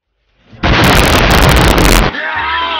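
A bomb blows up in the Crash Team Racing Nitro-Fueled kart racing game: one loud, close, booming explosion lasting about a second and a half, followed by a fainter whining tone.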